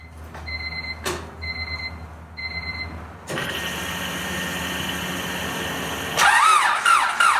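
A car engine cranks over without spark or fuel after a few repeating warning chimes, the starter whirring steadily and close for several seconds without catching.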